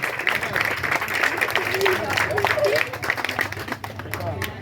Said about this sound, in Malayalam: എല്ലാവരും കൈയടിക്കാം